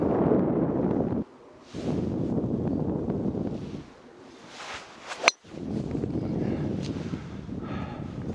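Wind gusts across a golf course in heavy buffeting bursts against the microphone, dropping out briefly between gusts, with a short clank in the middle.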